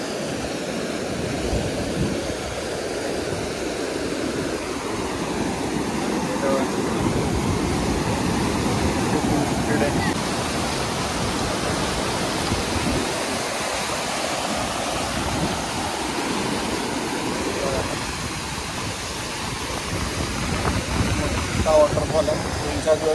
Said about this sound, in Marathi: सुंदर असा वॉटरफॉल आहे